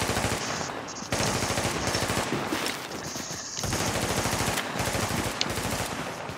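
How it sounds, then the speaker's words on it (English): Sustained bursts of automatic gunfire in the online shooter game The Division, rapid rattling shots running almost continuously with brief gaps, loud and close. "I don't know who they're shooting at"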